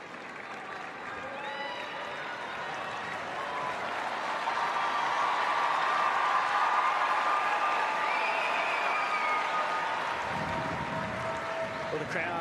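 A tennis crowd at a 2014 men's singles match between Roger Federer and Jeremy Chardy breaks into sustained applause, building to a loud steady roar of clapping with some cheering, and a commentator speaks over it.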